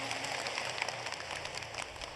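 A congregation at an Islamic religious gathering breaks into steady, dense applause. The clapping is continuous and even, heard from a middle distance with no voices over it.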